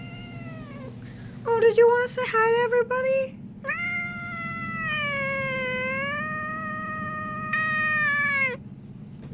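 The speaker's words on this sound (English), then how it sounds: "That's our cat. Yeah, that's the cat," A house cat meows repeatedly at close range, with several long drawn-out yowling cries in a row and a person speaking softly to it between calls.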